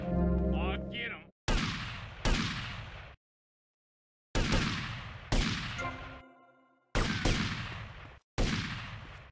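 Loud gunshots in a GTA game during an attack on a police station, coming in sharp separate bursts of one and two reports, with short silent gaps and a voice heard briefly at the start.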